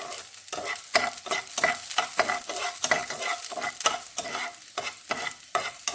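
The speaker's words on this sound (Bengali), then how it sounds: "ঘিয়ের সাথে খুব ভালো করে ভাজা হয়ে গেছে" Cashews and raisins fry in ghee in a pan while being stirred, giving a close, steady sizzle broken by quick rhythmic scrapes of the spoon.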